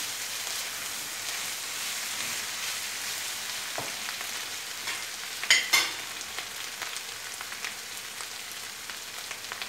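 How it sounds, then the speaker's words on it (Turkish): Meat and flour sizzle steadily in a hot frying pan while being stirred, a constant crackling fry with a few louder scrapes and bubbling pops partway through. "Bir tatlı kaşığı un attım. Şöyle karıştırıyorum tekrardan."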